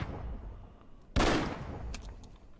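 A single sharp gunshot in the video game Sunset Rangers, loud and sudden against quiet background noise, followed by a few faint clicks.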